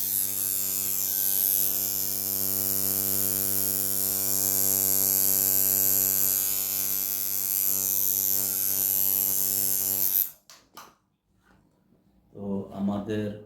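An electric tattoo machine in a tattoo shop runs with a steady mains-like hum and harmonic buzz for about ten seconds, then cuts off abruptly, followed by a few faint sounds and brief talk near the end.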